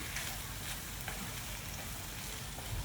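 Meat and mixed vegetables sizzle steadily in a pan while being stirred, a dense, even frying hiss that stays close and constant with no voices over it.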